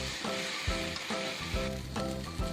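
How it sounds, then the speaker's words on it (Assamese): Spices with turmeric fry in a pan, a dense nearby sizzle with regular rhythmic stirring strokes recurring every half second or so throughout. "এয়া মই ভালদৰে ভাজি থাকিম।"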